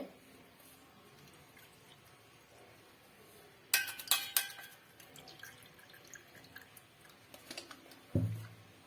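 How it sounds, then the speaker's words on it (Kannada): Lemon juice goes into homemade sugarcane-style juice with a sudden cluster of wet splashes, drips and glassy clinks midway, then a few softer taps and a short low thud near the end, over a quiet background. "ಸ್ವಲ್ಪ ಇದಕ್ಕೆ ನಿಂಬೆ ರಸ ಹಾಕ್ತಾ ಇದ್ದೀನಿ"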